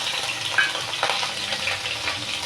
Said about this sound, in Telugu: ఇప్పుడు ఇందులో పచ్చిమిరకాయలు వేసుకుందాం.